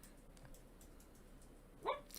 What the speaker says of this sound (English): that's my puppy having a dream